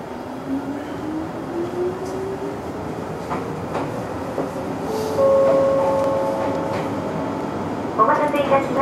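A Daiyuzan Line electric train hums steadily with a rising motor whine, rail clicks and a brief squeal, heard from the front car, while a voice speaks in Japanese over the running noise.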